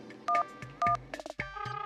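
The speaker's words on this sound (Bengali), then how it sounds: "একবার ফোন করে গুড নাইট জানাই।" Phone dialing tones: two clear beeps of a number being keyed, followed by shorter tone bursts and a steady ringback-like tone, close and alone.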